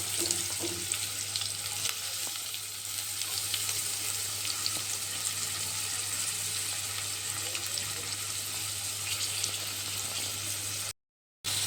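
Chopped onions frying in hot oil with cumin seeds for a capsicum potato curry, a steady, even sizzle that holds loud and continuous throughout, with no talking.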